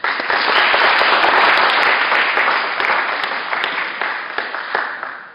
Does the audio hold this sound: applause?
yes